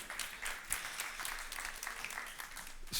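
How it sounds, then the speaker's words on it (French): A church congregation claps timidly during a sermon on the Holy Spirit, producing soft, scattered clapping at a moderate distance for a few seconds. "S'il vous plaît, faites-moi des applaudissements timides comme ça."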